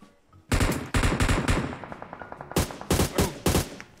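Rapid bursts of gunfire from a mobile battle-royale shooter game, several loud automatic volleys and single shots spread across a few seconds, close and punchy with no talking.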